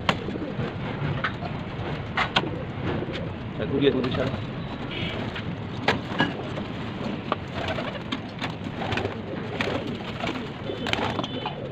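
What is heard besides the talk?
pigeons cooing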